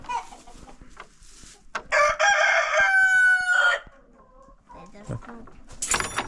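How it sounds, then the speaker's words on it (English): Chickens clucking and a rooster crowing loudly and close as a farm coop is opened in the morning, the crowing running for a couple of seconds amid scattered clucks and faint movement. "Should we let the chickens out, bud? Watch how they come out."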